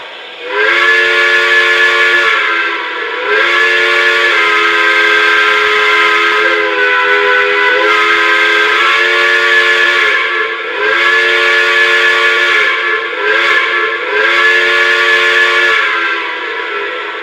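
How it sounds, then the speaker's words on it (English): A loud, continuous steam whistle from a model train, with a chord-like tone, sounds in long blasts with brief dips, hissing steam from the stack underneath, close and dominant throughout. "You now see the steam coming out of the stack, and here's that amazing whistle."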